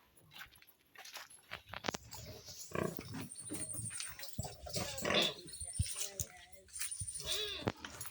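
Pigs at a farm that also keeps layer fowl and goats, grunting and squealing in short bursts close by, with people talking over the animals and a jangle of keys.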